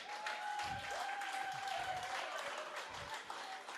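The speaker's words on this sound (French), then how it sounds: "On applaudit grâce." A church congregation applauds, steady crowd clapping carried along with sustained musical tones and some low thumps, filling the space evenly.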